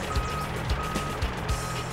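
A heavy machine or truck, called in at a muddy chuckwagon racing site, reverses with steady repeated warning beeps over a constant engine rumble.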